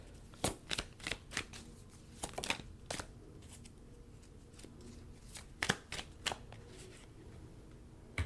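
A deck of tarot cards being shuffled by hand in quick irregular bursts of riffling and slapping, with quieter pauses in between and no talk.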